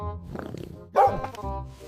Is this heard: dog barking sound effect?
yes